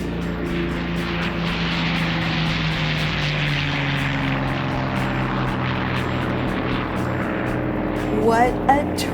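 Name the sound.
vintage propeller plane taking off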